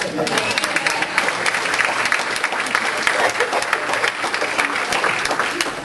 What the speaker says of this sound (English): Can we applaud for him first?